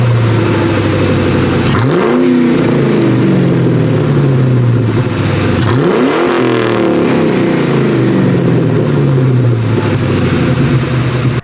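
A Ford Mustang fitted with a Borla Attack cat-back exhaust revs hard twice with a deep muscle-car roar, each time sweeping up and settling back to a loud, steady idle rumble close by.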